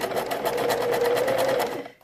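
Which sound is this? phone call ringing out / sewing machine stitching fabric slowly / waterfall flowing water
sewing machine stitching fabric slowly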